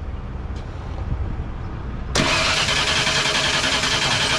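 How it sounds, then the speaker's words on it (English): A 1995 Ford F-150 with no spark cranks without starting: after a quiet stretch the starter kicks in abruptly and churns the engine in a loud, steady whirring drone that never catches. "And now we're going to crank it"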